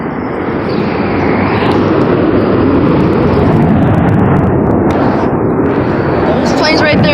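Blue Angels jets at an air show: loud, continuous low rumbling roar close overhead, with excited voices talking and exclaiming over it.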